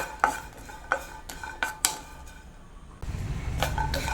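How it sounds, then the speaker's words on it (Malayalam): A spoon stirs spices slowly roasting over a medium flame in a pan for homemade sambar powder, giving several scattered metallic scrapes and clinks up close, then a soft sizzling hiss rises. "മീഡിയം ഫ്ലെയിമിലിട്ട് സാവധാനത്തിൽ നമുക്കിത് മൂപ്പിച്ചെടുക്കാം"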